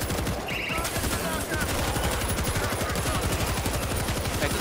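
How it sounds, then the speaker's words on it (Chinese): Heavy machine gun in World War Z firing continuously at a rapid steady rate, loud and close, with dense battle noise throughout and a brief high tone near the start. "哎，这重机枪好好用啊！"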